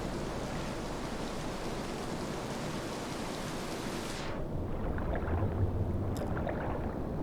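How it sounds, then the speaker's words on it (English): A waterfall in the video game Dishonored: The Brigmore Witches pours as a steady, full broadband rush that continues alone without a break, its hiss softening partway through while a low roar carries on. "So there's the waterfall."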